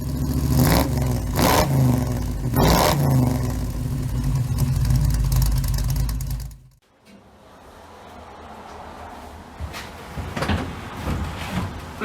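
A vintage vacuum wiper motor, wired straight to a positive and a negative lead, runs with a loud buzzing whir and repeated knocks, then drops off abruptly and continues as a softer, rattling hum with scattered clicks.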